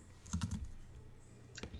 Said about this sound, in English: so while you're typing